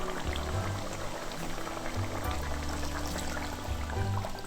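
Coconut milk, the first pressing, being poured into a simmering Kerala fish curry, a soft continuous liquid pour and bubbling heard close and quietly with no voices.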